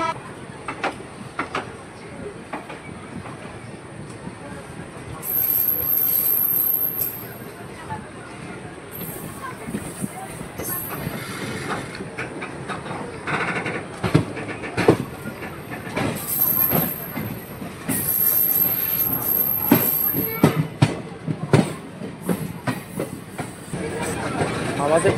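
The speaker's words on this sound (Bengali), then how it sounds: "আজিমগঞ্জ জংশন ছেড়ে দিল আমাদের ট্রেন।" The Azimganj–Katwa special passenger train pulls out of Azimganj Junction and rolls along the rails, with rhythmic clickety-clack, metallic squeals and rumble building over time, while people talk nearby inside the coach.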